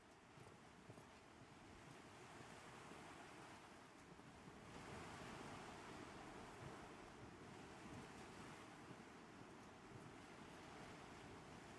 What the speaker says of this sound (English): Listen to the water, man. Isn't that cool?